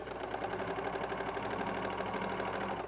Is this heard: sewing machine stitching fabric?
yes